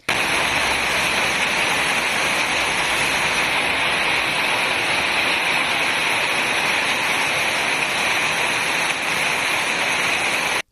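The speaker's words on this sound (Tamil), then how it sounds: "புதுக்கோட்டை மாநகராட்சி பகுதிகளில் 2வது நாளாக மழை தொடர்ந்ததால் குளிர்ச்சியான வானிலை" Rain falling over the city of Pudukkottai, a dense, steady hiss of downpour that stays loud and even from start to finish, with no voices.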